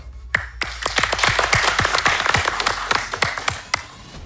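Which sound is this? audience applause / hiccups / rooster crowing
audience applause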